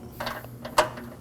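A 10mm bolt being snugged onto the AC condenser beam of a 2014–2020 Acura MDX, heard as a few quiet ratcheting clicks with one sharper metallic click near the end.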